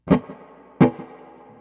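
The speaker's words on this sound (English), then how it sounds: "So this flashback delay here, and I talked about this earlier. It's just a basic delay, and you'll hear the way it's set here." Electric guitar through a Flashback delay pedal set as a basic delay, with the drive off: two plucked notes or chords, each followed by faint, decaying repeats that trail off behind it.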